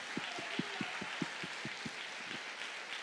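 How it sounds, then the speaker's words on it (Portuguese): A church congregation claps in a sparse, rhythmic pattern of about a dozen distinct hand claps, fairly faint over a soft background wash. "Aplauda mais forte. Aplauda ao Senhor, a Jesus."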